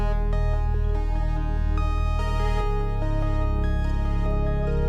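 A generative synth chord patch built in Serum 2 sustains loudly and continuously, with shimmering bright harmonics over a thick low bed and small pitch shifts flickering through the tone, no voices.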